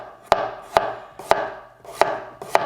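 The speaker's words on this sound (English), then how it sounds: "I'm just gonna see how well it cuts it. So first, a potato." Kitchen chopper cutting through a potato, five crisp, sharp chops at a fairly even rhythm, close and loud with quiet gaps between, no talking.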